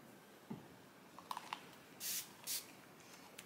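Two short hissing bursts of a spray bottle squirting water, a second or so apart, after some faint handling clicks in an otherwise quiet room.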